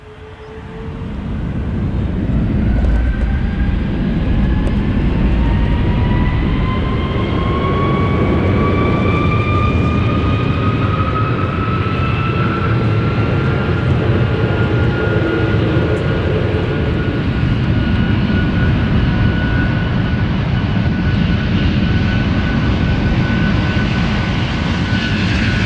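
Inside the cabin of a United Boeing 787 bound from Munich to Denver, a loud, steady engine roar swells as the jet powers up, with rising turbine whines layered over broadband rumble and no voices.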